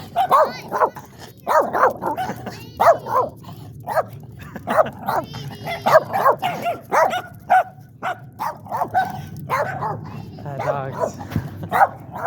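Small dogs barking outdoors on a walk, a rapid run of short, close yips and barks with some whimpering between them.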